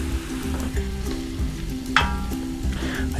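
Tomato paste sizzling in a pot of chili: a steady close frying hiss with a stirring scrape partway through and a low hum underneath, no talking.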